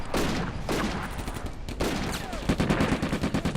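Machine gun fire in Combat Mission: Afrika Korps at Bir Hakeim: repeated bursts of rapid gunfire, loud and close, with a run of evenly spaced shots toward the end.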